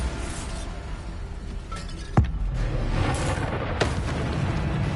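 A Bombarda spell explosion in Hogwarts Legacy, one sharp booming blast that lands suddenly and fades into a rumbling, crackling tail, followed by a second softer impact amid ongoing game noise.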